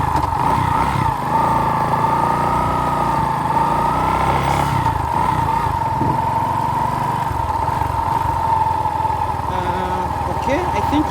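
A Bajaj Boxer X150 motorcycle, 2020 version, pulls away in first gear on a road test, its engine droning loud and close with small shifts in pitch as it gathers speed, while a person talks over it.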